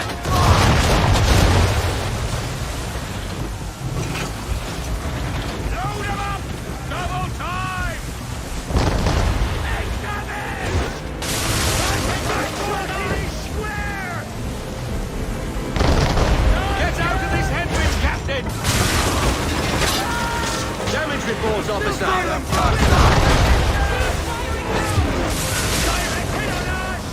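Ship cannons boom in a naval battle from Assassin's Creed III, heavy blasts repeating at irregular intervals amid shouted crew orders and battle noise, loud and close throughout.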